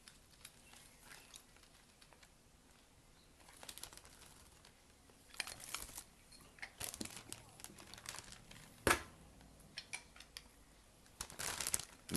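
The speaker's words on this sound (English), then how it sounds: "just going to squeeze the lime juice in there" Fresh limes are squeezed by hand over trimmed fajita meat, giving faint squishing, crinkling and dripping sounds that come in irregular bursts in a quiet room.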